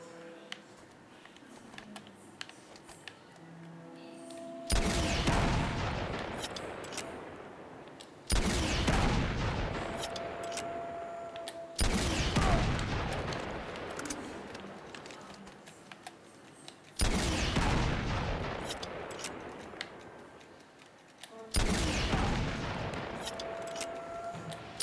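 Gunfire in the Uncharted 2 video game: five loud, sharp blasts spaced several seconds apart, each decaying into a rumbling tail, over quiet background game ambience.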